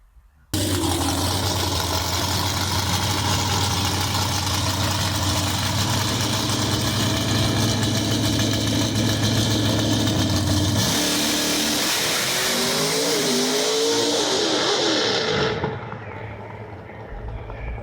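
A nostalgia drag race car, the Wayne County Avenger, idles with a loud, steady rumble at close range, then launches with a sharp rising roar and gear changes before fading as it pulls away; no talking.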